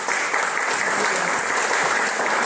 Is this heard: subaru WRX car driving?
no